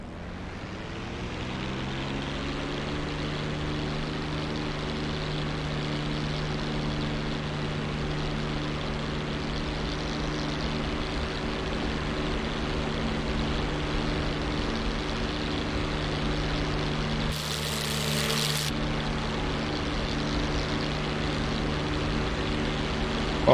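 Simulated P-51 Mustang propeller engine in the DCS World flight game drones at a steady, loud pitch throughout, with a brief burst of higher-pitched noise near the end.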